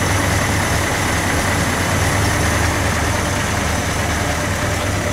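A steady engine idle with a deep, even exhaust rumble, constant and close, with no voices or changes in pace.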